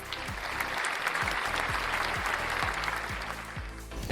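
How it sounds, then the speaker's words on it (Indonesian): Studio audience applause on an Indonesian business TV show, a dense, steady clatter of many hands clapping close and loud throughout, with no talk over it. "boleh tepuk tangannya dong, bos"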